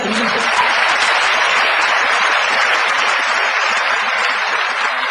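A lecture audience at Chungnam National University claps in sustained, dense applause, loud and even throughout with no voice over it.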